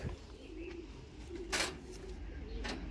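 A Picasso racing pigeon, a male of Stichelbaut bloodline, coos softly in low repeated murmurs, faint and close in a quiet loft, with a couple of brief sharp noises breaking in.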